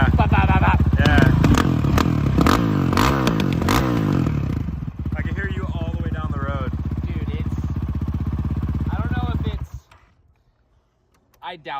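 A 2025 Honda CRF450X fitted with an FMF exhaust runs close by with a loud, crackling, popping engine note that stops abruptly near the end, while voices talk over it.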